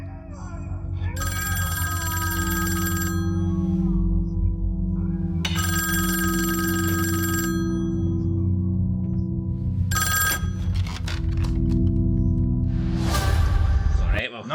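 A telephone rings in repeated bursts in a Squid Game season 3 teaser, its bright ringing tones separated by pauses over a low, sustained dramatic drone.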